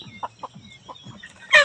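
Farmyard chickens on a rural countryside farm cluck in short, close bursts, a few separate clucks ending in a louder squawk, with no voices.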